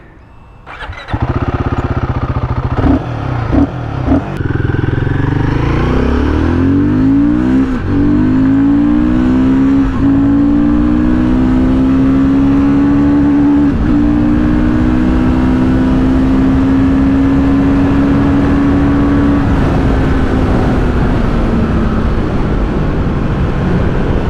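A 2024 Royal Enfield Guerrilla 450 motorcycle fires up with a few blips of the throttle, then pulls away through rising gear changes into a sustained, loud riding drone close by.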